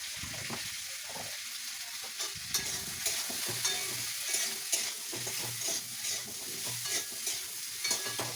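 Bottle gourd stirred in a kadai with a little salt and turmeric, a spatula scraping and clacking in an irregular rhythm over a steady soft sizzle, close up with no voices.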